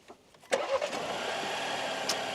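A Jeep Grand Cherokee with a 2-litre turbo petrol engine cranks briefly and fires up, then quickly settles into a smooth, quiet, steady idle, close by.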